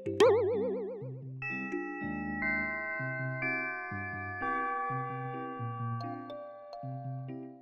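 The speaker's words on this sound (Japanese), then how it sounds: "チャイム、よかった。" A school chime plays as a stepped sequence of clear, bell-like tones in a steady melodic pattern, loud and alone with no talk, opening on a brief bouncy wobble.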